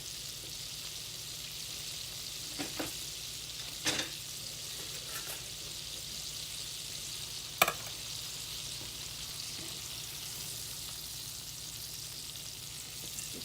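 Frozen okra frying in a small skillet gives a steady, hissing sizzle, with a few soft scrapes and taps as the pieces are moved around.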